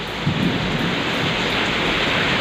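Steady, heavy rain pours down continuously, a dense wash of hiss with a low rumble underneath, close and loud throughout.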